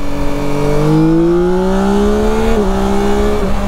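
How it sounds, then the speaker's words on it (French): A Yamaha Tracer 9 GT+ motorcycle accelerates hard in second gear, its engine note rising steadily in pitch before a brief dip at a shift-like break, loud and close throughout with no talking. "On va faire une petite accélération, après je vais vous la montrer. Deuxième vitesse."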